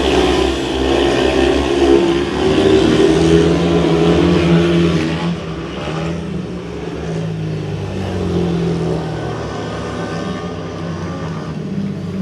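Speedway motorcycles racing a lap in a Monarchs meeting, a loud droning roar of engines rising and falling as the bikes sweep past, heard from trackside with continuous engine noise throughout.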